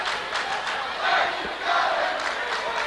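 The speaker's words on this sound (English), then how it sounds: "So the Dothan fans have something to cheer about." Basketball crowd at a 2008 Dothan versus Northview high school game cheering and shouting steadily, a loud continuous roar that swells around the middle and stays dense throughout.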